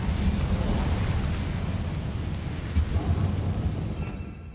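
An Incendio fire spell cast in Hogwarts Legacy, a loud roaring whoosh of flame with a deep rumbling burst that stays thick and sustained for several seconds, then fades slightly.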